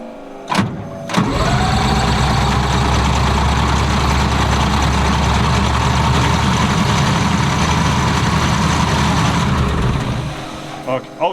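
A Chieftain main battle tank's generator engine cranks and starts after a few brief attempts, then runs with a loud, steady rumble before cutting off. Close by.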